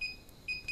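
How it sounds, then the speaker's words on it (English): Short electronic beeps from a DJI Phantom 3 drone during a firmware update, two brief steady tones separated by a gap, clear and close with no talking. "So it does exactly the same beep sequence."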